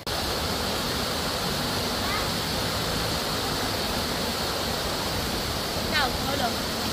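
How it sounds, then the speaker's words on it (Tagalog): Maritic Waterfalls in Infanta, Quezon pours with a steady, dense roar of rushing water that fills the whole scene without pause, close and loud, with a couple of faint brief voice-like chirps over it. "Ito po yung falls."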